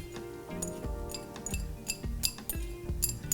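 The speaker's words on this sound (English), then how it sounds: "Okay, so now I'm going to add the cheese and then just keep stirring it" Cheese stirred into a squash sauce in a pot, heard as a steady run of spoon-on-pot clinks and scrapes at a fairly even rhythm, close and moderately loud, with no talking.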